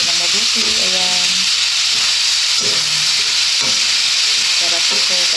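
Chop suey made with fresh market vegetables sizzles loudly in a pan while being stirred, a steady frying hiss with clinks and scrapes and a few brief tonal bursts on top.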